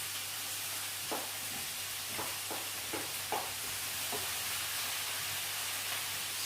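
Mushrooms going into a pan of vegetable fried rice with cauliflower, a steady soft sizzle and hiss with faint stirring scrapes and clicks scattered through it.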